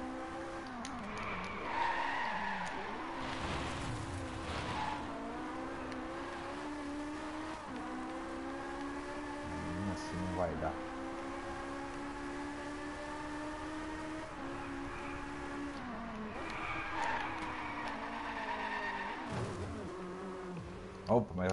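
A car drifting in the racing video game Driveclub, with long tire squeals and skidding over a droning engine that revs and shifts pitch, steady and fairly close, with a voice talking over it in places.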